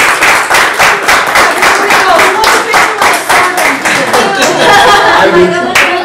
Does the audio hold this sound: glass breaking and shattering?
no